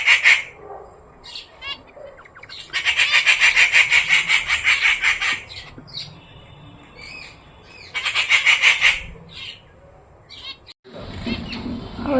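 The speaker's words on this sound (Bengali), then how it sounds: "কত রকম যে পাখির কলরব শোনা যায়" Many kinds of birds squawk and call outdoors in loud, overlapping bursts that swell and fade, with scattered single chirps between the louder choruses and a brief rustle at the end.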